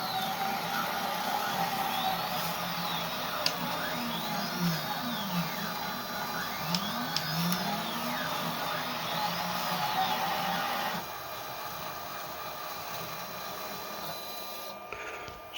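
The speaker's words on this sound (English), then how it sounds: "have it cutting a 100 millimeter diameter circle." A custom-built 3018 CNC router cuts a 100 mm diameter circle, its stepper motors whining in steady rising and falling sweeps over a constant mechanical hum, close and continuous, with the pitch pattern changing near the end.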